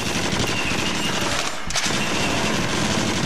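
Rapid, continuous gunfire in the video game Until Dawn: Rush of Blood, a loud, dense stream of shots with no pauses, filling the whole stretch with no voices.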